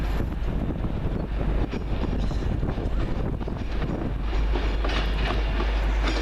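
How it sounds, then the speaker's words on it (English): An 11-coach Virgin Trains West Coast Pendolino from London Euston to Glasgow Central pulls into Carlisle station, a loud continuous rumble of wheels and rails with wind buffeting the microphone throughout. "Next train in, the 1347 Virgin Trains West Coast 11 coach Pendolino service from London Euston to Glasgow Central."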